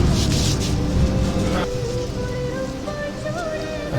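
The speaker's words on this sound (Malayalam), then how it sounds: "മഴയുണ്ട്, നല്ല മഴ." Heavy rain pours steadily outside a roadside tea shop, a dense, continuous wash of noise that holds at the same level throughout, with faint tonal sounds drifting in behind it.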